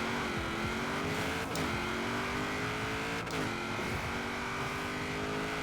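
A Mazda RX7 Spirit R with a drag tune launches in Forza Horizon 4, its engine revving hard and climbing in pitch, with two sharp gear shifts interrupting the rising whine, loud and close with no talking.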